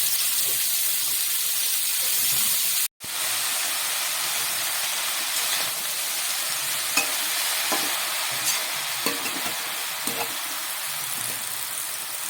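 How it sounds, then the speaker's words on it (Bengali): Chopped onion and water spinach frying in a hot pan, a loud continuous close sizzle and hiss with a momentary cut near the start and faint scraping stirs, no speech. "পেঁয়াজটা হালকা ভাজা হয়ে গেলে শাকটা তুলে দেবো, বেশি ভাজা হবে না, হালকা ভাজা হলে শাকগুলো দিয়ে দেবো।"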